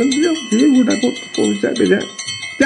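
A bell rings steadily under a man singing in an Odia jatra comedy scene, its clear sustained tone running beneath the close, loud vocal.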